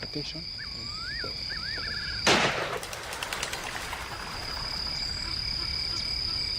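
A single sharp gunshot fired into the air cracks out and echoes, with a frog croaking and insects chirping before it and a steady insect drone around it, in Gorongosa, Mozambique.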